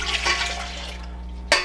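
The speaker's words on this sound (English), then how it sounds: "in the stand mixer that I have here, I'm going to add the milk and water" Milk and water pouring into a stand mixer bowl, a steady close rushing splash that continues and then gives a brief louder gush near the end.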